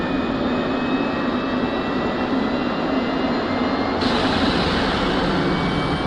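A T-45C Goshawk jet engine idles steadily at startup, a continuous loud whine and roar with a high tonal hum that steps up slightly in pitch and brightness partway through.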